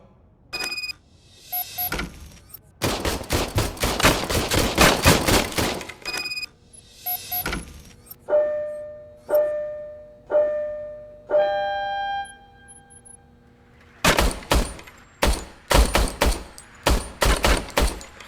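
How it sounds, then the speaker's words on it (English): An old, worn service gun in the RoboCop: Rogue City game fires in loud, rapid automatic bursts with several pauses. Between bursts come ringing mechanical tones, isolated single shots and a few clicks. "I was issued this old gun and serviced it according to the manual. I will try it out."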